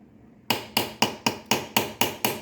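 Hammer strikes on a rivet shank resting on an anvil, eight sharp metallic taps at a steady, even rhythm after a brief quiet start, each ringing briefly and close by.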